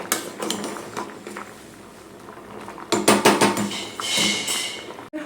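Dishes, pots and pans being washed in a home kitchen, with irregular clattering knocks and scrapes of metal utensils, a busier cluster of clanks midway, close and moderately loud with no talking.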